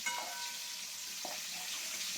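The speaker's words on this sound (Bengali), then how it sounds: "ক্যাকড়া বেশিক্ষণ ভাজতে লাগে না।" Crabs frying in oil in a home kitchen give a steady, faint hiss of sizzling with a couple of light stirring clicks, close by and without any talking.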